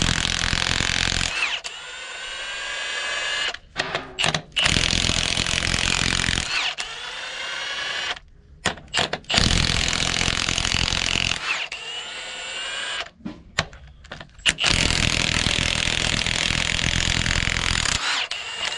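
Brand-new Milwaukee 3/4-inch impact wrench hammering out engine head bolts during an in-frame rebuild on a cabover truck, several loud rattling bursts of a few seconds each separated by short pauses, close up.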